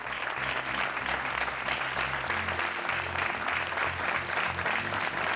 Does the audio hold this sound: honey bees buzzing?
no